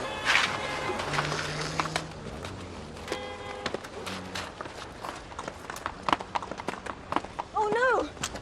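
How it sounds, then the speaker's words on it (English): Horse hooves clip-clopping along a road in a village setting, irregular close hoofbeats under people talking, with a horse's whinny near the end. "Slow down for the horse."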